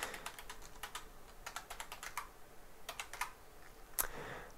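Someone types a sudo command on a computer keyboard: quick bursts of close, crisp key clicks with short pauses between runs and one heavier keystroke near the end.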